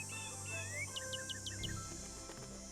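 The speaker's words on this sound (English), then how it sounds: "Oh, there's a bird." A bird calls in a video game forest, a short series of quick rising chirps repeated about six times, moderately loud above a steady low ambient hum.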